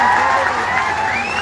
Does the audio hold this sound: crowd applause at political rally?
yes